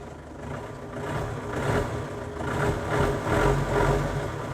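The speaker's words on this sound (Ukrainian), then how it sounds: "Такий моторчик приємний." A Scout TB-904C small tractor engine idles steadily with a low, rough chugging hum, rising slightly in loudness now and then, close by with no voices.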